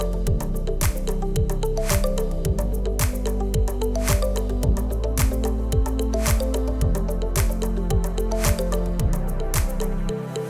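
Eggs are beaten one at a time into a spiced chai cake batter, a close, steady run of wet squishing and slapping strokes in a quick, even rhythm, with no voices.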